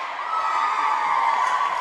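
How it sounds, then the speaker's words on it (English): Steady crowd noise from a high school volleyball game, a sustained wash of cheering and shouting voices that holds at an even level throughout with no distinct breaks. "And we got some cheering going on."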